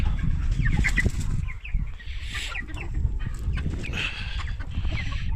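Chickens let out of their coop in the morning, clucking and squawking in a busy overlapping chorus close by, with occasional wing flaps.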